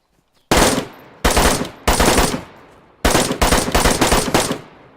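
Several loud bursts of automatic gunfire in the video game DayZ Standalone, each rapid and sharp, separated by brief pauses, with a longer rapid string near the end.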